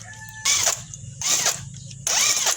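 Impact wrench spinning wheel nuts off a Suzuki Swift, three short loud whirring bursts separated by brief pauses, close up with no talking.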